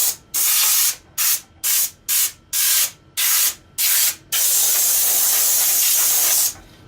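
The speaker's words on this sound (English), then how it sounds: "So I do have a compressed air machine over there, so I can squirt this out." Compressed air from an air machine blasting debris and metal bits off a computer motherboard on a GPU mining rig, loud hissing bursts in about eight quick pulses followed by one long continuous blast, close up.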